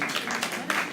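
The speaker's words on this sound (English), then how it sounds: "Clap them hard, man, clap them hard, yes, man, clap them" Brief burst of audience applause at a stakeholders' conference, dense hand clapping from a roomful of people, fairly close and steady for about a second.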